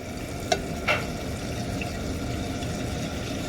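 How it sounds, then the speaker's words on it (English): Ice cold butter melts in a hot pan with rendered chicken fat, giving a steady close sizzle with two brief sharp ticks near the start and no voices. "we're going to add some nice ice cold butter. Ice cold butter. We turn the heat on."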